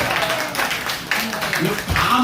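Congregation clapping at a church worship service, a broad crowd of hands at moderate loudness under someone speaking.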